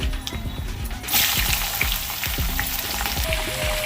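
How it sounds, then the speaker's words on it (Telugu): Chopped ivy gourd pieces fry in hot oil in a pan with a steady crackling sizzle. Repeated low knocks of a spoon stirring against the pan run through it, and the hiss swells louder a second in. "దొండకాయ ముక్కలు మొత్తం వేసేసుకున్నానండి మొత్తం కలుసుకోవాలి ఫ్రై చేసుకోవాలండి"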